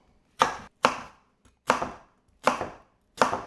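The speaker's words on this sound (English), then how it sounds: "cut them really, really small" Knife chopping onions very small on a board, five crisp, close chops at a fairly even pace with short pauses between them.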